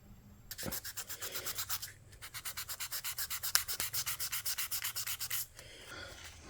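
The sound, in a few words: wet sanding a guitar finish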